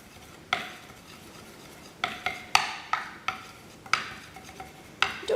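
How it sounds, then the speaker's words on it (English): A teaspoon stirs red colouring into melted chocolate, giving several sharp clinks and scrapes against the bowl at irregular intervals, close and moderately loud over a quiet room. "I've got a teaspoon here and I'm just going to mix it in"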